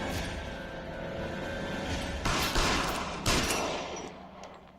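In the L.A. Noire video game, bursts of gunfire crack out as a rapid fusillade. Two louder volleys stand out against a background of continuous shooting.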